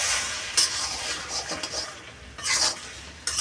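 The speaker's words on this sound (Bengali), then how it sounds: "দেওয়ার পরে পুরোপুরি সবটা মিক্স করে নেব।" Vegetables being stirred and mixed with sugar and cumin powder in a pan for a chorchori: soft scraping strokes of a spoon, a few louder swipes, over a faint sizzle, quiet and close.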